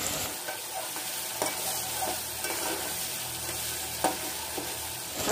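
Tomatoes sizzling in hot oil with ginger-garlic paste and boiled peas for matar pulao masala, a steady close frying hiss broken by scraping stirs of a spoon in the pan, with no talking.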